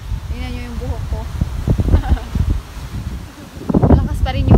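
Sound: strong wind at the seaside

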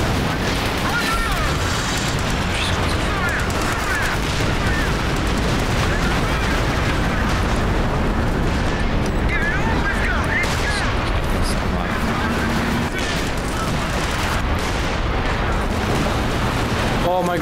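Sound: artillery barrage and explosions in a video game

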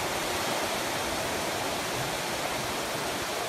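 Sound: water gushing out of rock in Cheile Tatarului gorge

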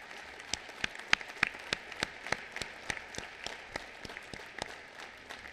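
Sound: audience applause for veterans at school assembly

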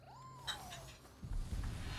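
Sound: cat meowing

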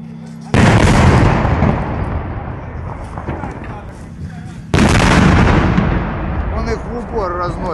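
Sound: tank firing point-blank at buildings in Mariupol

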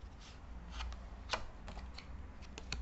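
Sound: playing card thrown from the deck to the other hand

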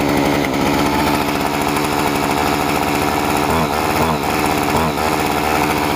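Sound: Homelite Expand-it gas engine starting on second pull

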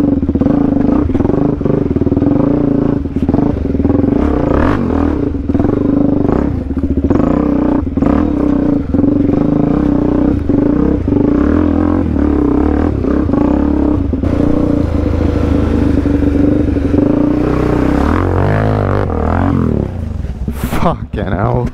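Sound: Suzuki DRZ400 dirt bike engine revving on rocky enduro trail

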